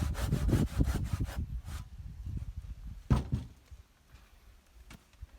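A hand saw rasps through wood in quick back-and-forth strokes, then pauses, followed by a few scattered scraping strokes and light knocks nearby.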